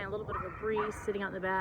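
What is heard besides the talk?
dog barking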